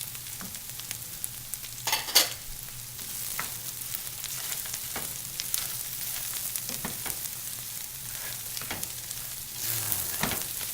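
Bacon and rice for a mushroom-walnut pancetta risotto sizzle steadily in a pan, with scattered spoon scrapes and stirring clicks over a constant frying hiss.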